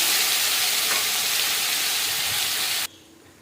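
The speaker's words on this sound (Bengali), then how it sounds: "তো কচুরলতিগুলো দেখো তেলের উপর দিয়ে দিলাম, দিয়ে নাড়াচাড়া করব," Taro stolons (kochur loti) fry in hot oil with a loud, steady sizzle, close up, as they are stirred, before the sizzle drops away sharply near the end.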